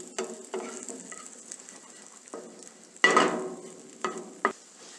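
Bread croutons frying in butter in a pan for cream of tomato soup garnish, with intermittent soft scraping and stirring bursts over a quiet low sizzle, one louder clatter midway.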